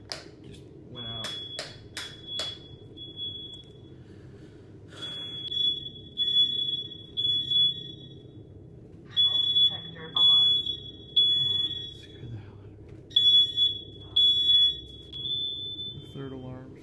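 A house smoke alarm chirps with repeated high electronic beeps in bursts over a steady low background hum, with a few sharp knocks near the start.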